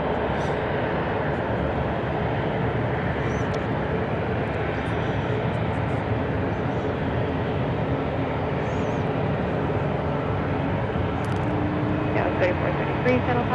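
A Delta airliner in a SkyTeam special livery at Seattle airport, heading out to Austin, gives off a loud, steady, close jet roar that holds without a break for the whole stretch.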